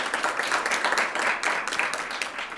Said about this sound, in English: Where are your applause?